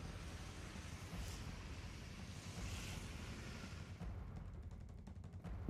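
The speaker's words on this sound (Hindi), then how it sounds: "तेज हवाएं और बारिश" Strong wind and rain lash Bhubaneswar ahead of Cyclone Yaas, a steady loud roar of gusting air and heavy downpour with wind buffeting the microphone throughout, no voices.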